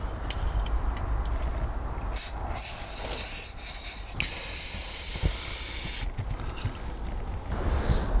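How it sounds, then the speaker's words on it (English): Carb cleaner sprayed from an aerosol can onto a clogged filter from a diesel MK2 Golf GTD, giving loud sustained hissing bursts, one brief and one long, broken by short pauses. "we're going to give it a clean with, what's that, carb cleaner?"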